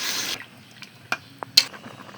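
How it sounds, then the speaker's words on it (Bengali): Water poured into a hot pan of frying madhu pangas fish with green chilies gives a short, loud sizzling rush, then a few faint clicks and small spatters in a quiet kitchen. "এবার দিয়ে দেবো জল"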